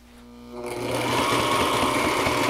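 A Sailrite Ultrafeed LS sewing machine set to its widest stitch starts up and stitches through fabric. The motor whir builds over the first half second, then holds as a steady, close, loud mechanical hum with rapid needle rhythm.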